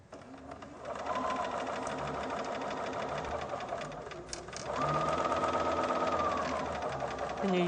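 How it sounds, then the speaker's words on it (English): Sewing machine stitching a patchwork seam, a continuous rapid mechanical whirring hum that briefly slows and then resumes steadily, with a voice speaking over it. "we can sew from the centre, but I'm now going to stop at that point where the seam is"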